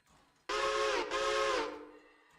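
A model railway locomotive sounds its steam-style whistle in two connected blasts, one long and then a second that trails off, clear and fairly close, with only quiet background before and after.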